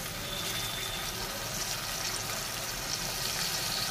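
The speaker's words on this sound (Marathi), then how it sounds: "त्याच्यामध्ये मी थोडंसं पाणी घालून घेते" Water goes into a pan of frying onions and green chillies, making a steady, even rush and hiss of liquid that holds for several seconds at close range.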